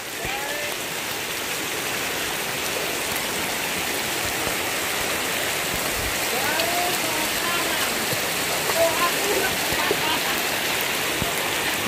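Heavy rain pours down during an off-road ride, a dense, steady hiss of falling water with scattered drops, constant and loud throughout.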